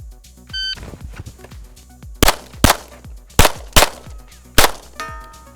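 Pistol shots cracking out at an outdoor shooting range, five sharp, loud reports spaced roughly evenly over a few seconds, with faint clanks and ringing steel between them.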